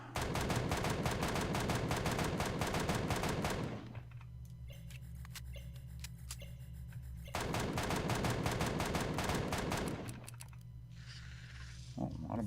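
Rapid automatic gunfire from a weapon in the multiplayer game E.G.S., loud sustained bursts of dense shots in two long volleys with quieter game ambience between them.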